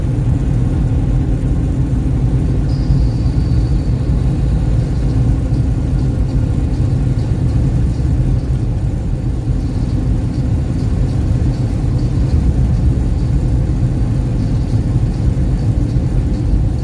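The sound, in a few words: semi truck engine running while driving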